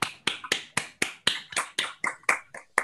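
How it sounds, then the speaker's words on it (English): Online meeting participants clapping with their own hands, about a dozen separate, crisp, evenly spaced claps, fairly close and alone. "Maybe we can all unmute to clap for with real hands for a short moment."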